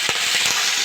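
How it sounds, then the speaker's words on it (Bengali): Ginger and green chilli paste hits hot mustard oil with panch phoron for a cauliflower kochuri filling, giving a brief, steady, loud frying hiss with a few soft stirring knocks. "আমি আদা আর কাঁচা লঙ্কা বাটা দিয়ে দেবো।"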